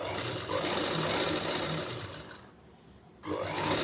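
Sewing machine stitching a blouse placket, a fast close whirring buzz that eases off, pauses briefly near the end, then starts up again.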